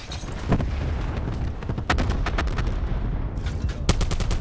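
Rapid bursts of gunfire from the Call of Duty: Black Ops 4 multiplayer map Nuketown, with sharp shots and automatic volleys cracking in close succession throughout and some louder, nearer blasts standing out.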